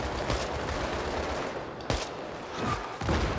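Bursts of gunfire in the video game Battlefield 3, several sharp shots fired in quick clusters over a steady background of battle noise, fairly loud and close.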